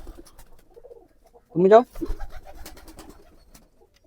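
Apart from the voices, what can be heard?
pigeons cooing on a farm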